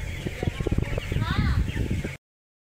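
Chickens on a poultry farm cluck in a crowded, continuous chorus, close and fairly loud, with a drawn-out squawk rising above the flock.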